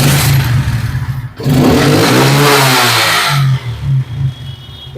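A used registered motorcycle's engine, in fairly good condition, runs loudly close by, revving up and settling back with a steady low throb, briefly dipping before rising again.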